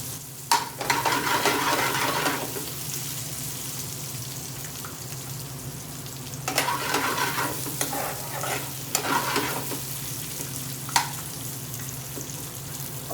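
Food frying in heated oil for an Indian restaurant-style chicken tikka dupiaza, a continuous close sizzle with bursts of spattering and stirring scrapes throughout, no talking.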